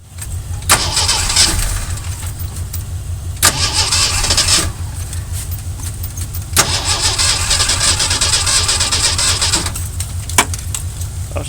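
A 40-year-old Jeep CJ7 engine is cranked and fires after priming, catching several times in loud, close bursts and settling into a rough, throbbing idle between the attempts.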